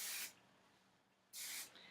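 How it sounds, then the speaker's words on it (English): Two short bursts of hairspray misting onto freshly curled hair extensions, a close, soft hiss, each lasting a fraction of a second with a quiet pause between. "I'm gonna put a little bit of hairspray"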